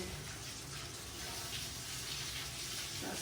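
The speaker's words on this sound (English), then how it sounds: "just give them a rinse to get rid of that dirt" Tap water runs steadily over dusty pasilla chiles as they are rinsed clean in a kitchen sink, a continuous close gushing splash with no talk.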